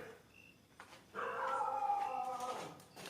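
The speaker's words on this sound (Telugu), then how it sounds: "కుక్కలు ఎందుకు అరుస్తున్నాయి?" A dog howls in a long, wavering, rising-and-falling cry lasting over a second, fairly close and clear, outside a house at night, with faint background noise and no talking.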